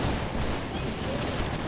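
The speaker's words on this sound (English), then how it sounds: "Chief, that gun's firing non-stop." An enemy gun in Halo 3 fires non-stop, a dense, loud, unbroken roar of rapid shots with no pause.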